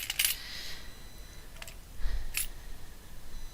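Small metal keys being picked up and handled for a mixed media craft piece: a few light, close metallic clinks and jingles, with quiet pauses between them.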